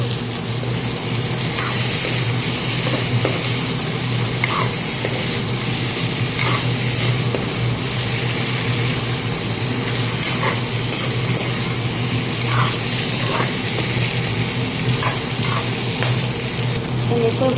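Fish frying in a pan, a steady loud sizzle with light scraping and clicking throughout, no talk over it.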